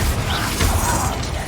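A Confringo blasting spell cast in the Hogwarts Legacy video game, heard as a short dense burst of whooshing, crackling noise with a sustained low rumble, loud and steady through the moment.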